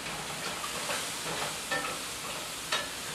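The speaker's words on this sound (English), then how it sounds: "Hold on, I gotta stir." A spoon stirs steel cut risotto with garlic in a pan, producing scraping and shuffling strokes over a soft frying sizzle, close and fairly quiet.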